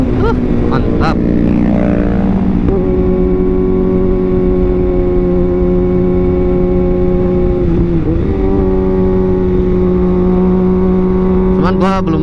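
A 2021 Kawasaki Ninja ZX-6R sits idling with a steady, loud inline engine drone, blipped briefly near the start and again around eight seconds and at the very end.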